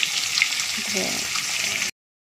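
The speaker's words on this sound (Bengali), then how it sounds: "সব মাছ ভাজা চলছে" Fish fry in hot oil in a home kitchen, giving a steady, close sizzle with faint bubbling and a few soft clinks before the sound cuts off abruptly; no one speaks.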